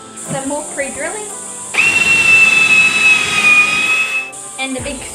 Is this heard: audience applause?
no